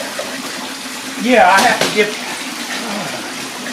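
Water runs down an artificial concrete waterfall built over stacked old aluminum lounge chairs inside an aviary, a steady splashing rush that swells briefly in the middle while a person speaks a few words.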